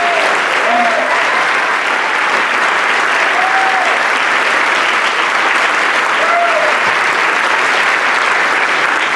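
A large audience at a Rotary Club state of the city address in Louisville applauds the city snow team, with loud, dense and continuous clapping that fills the room evenly for about nine seconds.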